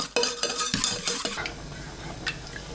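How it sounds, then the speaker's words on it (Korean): Spoon scraping and clinking in a pot as glutinous rice flour is stirred into kelp stock for kimchi rice paste, a few sharp taps then softer swirling, close up with no talk. "찹쌀가루가 뭉치지 않게 풀어주세요."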